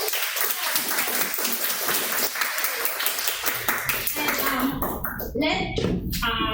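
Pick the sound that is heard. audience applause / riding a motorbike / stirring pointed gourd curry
audience applause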